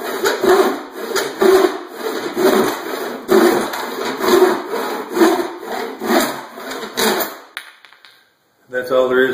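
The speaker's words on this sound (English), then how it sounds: "it helps to keep the saw straight too, not let it wiggle or bend in your cut." A hand saw cutting through wood in steady back-and-forth strokes, a loud rhythmic rasp of about a dozen pulls, stopping near the end before a brief renewed scrape.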